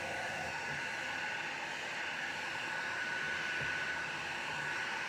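A heat gun blows steadily while warming gold resin pigment, a constant loud whooshing roar of hot air running unbroken throughout, with no voices.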